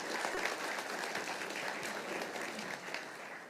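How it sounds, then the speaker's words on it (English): Sustained audience applause at the opening ceremony of a plenary meeting in Grand Cayman, a dense, even wash of many hands clapping at steady loudness throughout. "Please give me a round of applause and that."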